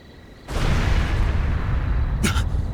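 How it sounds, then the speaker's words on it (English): A sudden explosion at a villa in the video game Trails through Daybreak II bursts in with a deep, sustained roar that rumbles on for a couple of seconds, a brief sharper crack flaring near the end. "What was that explosion?"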